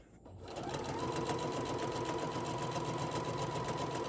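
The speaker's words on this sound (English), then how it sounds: "So as you see, I am sewing along the edge." A sewing machine stitches along the edge of a fabric bear body, starting after a brief pause and then running in a steady, close, continuous mechanical whir.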